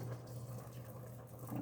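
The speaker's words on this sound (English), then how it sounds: "I'm gonna put a little bit more water in here, just because we're getting down too low." Boiled water pouring into a dye pot while dyeing polyester lace, a steady close liquid rush with a low hum underneath and no talk.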